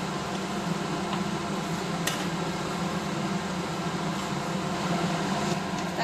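Semolina frying in a pan, a steady dense hiss and low sizzle that holds evenly throughout, with no talk over it.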